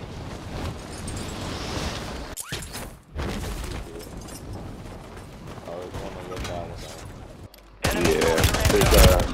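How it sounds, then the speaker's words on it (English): Gunfire in Call of Duty: dense, rapid automatic bursts rattle almost without a break, briefly cut off, then return as a louder, fuller burst near the end. "They're shooting up across too"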